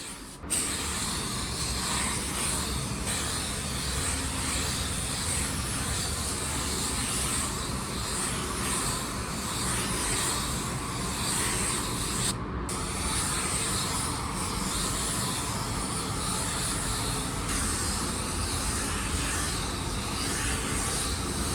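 A spray gun applying a wet coat of car paint hisses steadily and loudly for the whole stretch, a dense continuous spray with one brief break midway.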